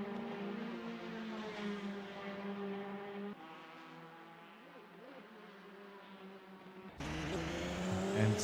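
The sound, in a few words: race cars, Porsche, in a racing video game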